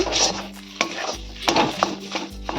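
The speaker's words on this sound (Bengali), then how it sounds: "ভালো করে আমি নাড়িয়ে নেব" A spoon stirs mashed potato mixed with crushed chillies in a pan, giving several soft scraping, knocking strokes against the metal over a light background sizzle, close and fairly loud.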